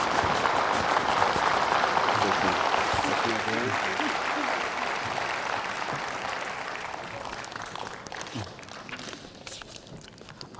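Audience applause fills a lecture hall at a school principals' summer training conference in Jeju, steady and dense at first, then slowly thinning and fading toward the end.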